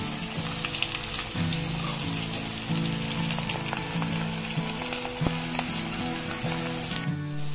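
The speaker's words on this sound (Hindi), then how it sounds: "इसे भी 5 मिनट भूनने देंगे।" Ginger, garlic and green chili sizzle steadily in hot oil in a pan with onions for street-style Amritsari paneer bhurji, a continuous close frying hiss with occasional faint stirring clinks and no talk.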